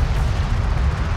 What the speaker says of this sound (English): Hostile railgun. Opened up. Armored vehicle is taking fire.